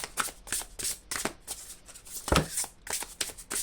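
Tarot cards are shuffled and pulled from a deck at close range, giving quick papery riffles and flicks in an uneven rhythm, with one sharper slap partway through.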